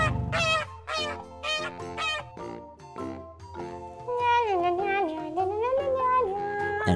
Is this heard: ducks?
yes